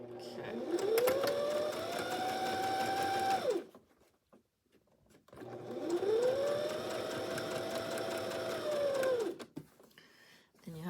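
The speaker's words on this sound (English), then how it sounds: "we're going to put it right on the corner and sew along our line." A sewing machine runs twice in long steady bursts while stitching binding along a marked line on fabric, its motor whine rising in pitch, holding, then falling, with a brief quiet gap between the runs.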